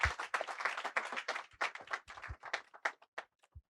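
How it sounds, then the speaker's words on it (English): Audience applause for a speaker at an economic outlook event, a dense patter of many hands clapping at moderate distance that thins into scattered claps toward the end. "Let's give him another resounding round of applause."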